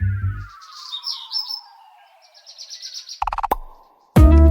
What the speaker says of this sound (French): Le gazouillis d'un moineau.